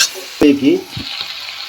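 Mushrooms stirred in a pan over a medium flame, with a soft steady sizzle beneath a few scraping stirs of a spoon against the pan, close and fairly loud.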